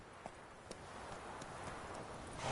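Hooves of Roach, a horse galloping in The Witcher video game, a faint, quick rhythmic clip-clop pattern with no talk, growing slightly louder toward the end.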